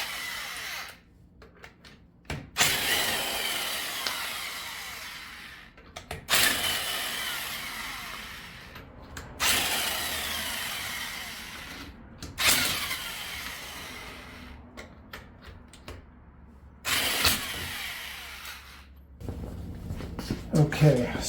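Jacks on both sides raise the rear of a 2013 Chevy Equinox, giving four or five long, loud bursts of gritty mechanical whirring, each a few seconds long, separated by short quiet pauses.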